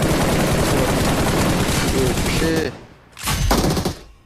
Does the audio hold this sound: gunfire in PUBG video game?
yes